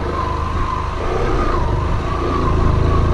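A car in first gear climbing a steep hill road to a mountain village, its engine droning and revving steadily, rising slightly in loudness toward the end.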